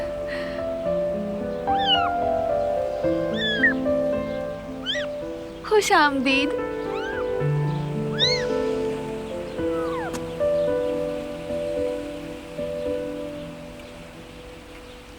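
A pet cat meows repeatedly indoors, several short rising and falling mews scattered through the scene, mixed under steady background music while a voice speaks briefly.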